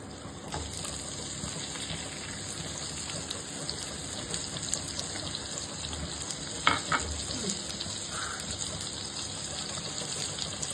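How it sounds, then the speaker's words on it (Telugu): Dry fruits frying in oil in a pan for Kashmiri pulao, a continuous soft sizzle with faint hissing and a few brief stirring scrapes, fairly quiet and close, without any talk. "నెక్స్ట్ డ్రై ఫ్రూట్స్ వేస్తున్నాను. ఇది కొంచెం ఫ్రై కావాలి."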